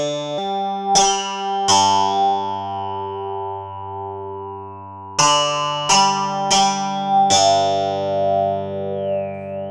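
A synthesized drone resembling an Indian tanpura, patched in VCV Rack 2, rings out in loud, sustained string-like tones, with fresh plucked attacks restarting the hum every second or so, then trailing off under reverb and delay.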